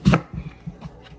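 A knife cutting around an apple core on a board, one sharp cut and then several softer, quick crunching cuts close by.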